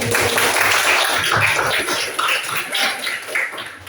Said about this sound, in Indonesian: tepuk tangan untuk Lutfi